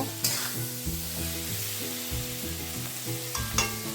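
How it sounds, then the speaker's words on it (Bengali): Sliced onion fries in a pan, giving a close, steady crackling sizzle with light stirring throughout, over a soft tonal background. "পেঁয়াজটা একটু ভাজা হোক, গোল্ডেন কালার হোক"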